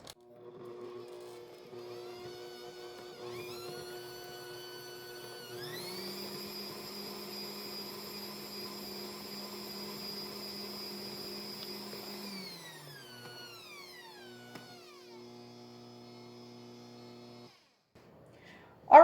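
An electric stand mixer runs steadily as it creams chocolate peppermint cream cheese frosting, giving a smooth motor whine that rises in pitch partway through, holds, then slows and winds down to a stop.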